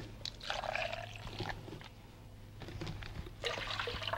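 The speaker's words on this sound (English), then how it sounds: "You pour that water in the blender." Water pours in short bursts into a blender for papermaking, splashing and gurgling, with a quiet pause between pours.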